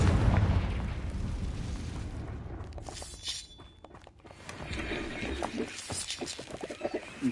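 A Confringo explosion spell in the video game Hogwarts Legacy: a loud booming blast at the start that rumbles and fades over a few seconds, followed by crackling debris and scattered game effects.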